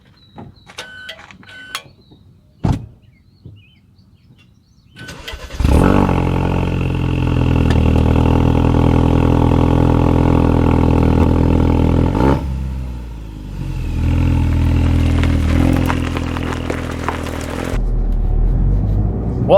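A 2017 Ford Focus RS fires up after a few faint clicks and thumps, then settles into a loud, steady engine drone that dips briefly and resumes before cutting off near the end.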